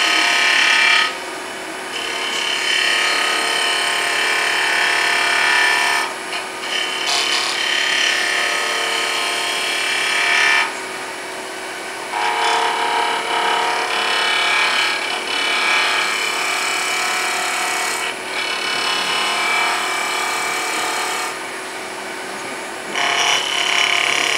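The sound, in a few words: wood turning with a skew chisel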